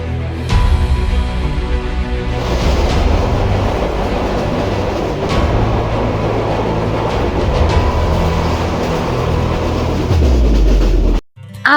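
A passenger train running on rails on the Dhaka to Chittagong route, a steady loud rumble and rattle of carriages throughout, with the rolling noise cutting out briefly near the end.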